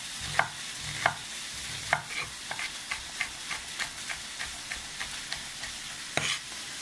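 Chicken and vegetable fajitas, with julienned vegetables crowding a small, very hot pan, sizzling steadily while being stirred, with regular scraping strokes and louder spatula scrapes every second or so.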